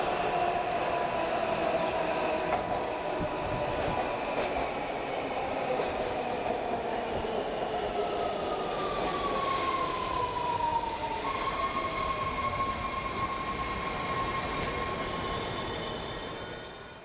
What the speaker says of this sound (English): We had a lot of fun riding the subway.